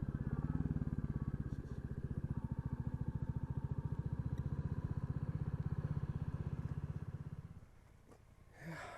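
A Royal Enfield motorcycle, a Classic 350 or Bullet 500 single, thumps steadily and loudly close by at road speed, its low pulsing exhaust constant for most of the stretch before dropping away near the end.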